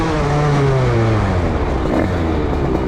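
A DRD 88cc moped fitted with a Stage6 Big Racing kit revs loudly and close by, its engine note rising and falling through rapid throttle blips with a busy, buzzing tone and no talk.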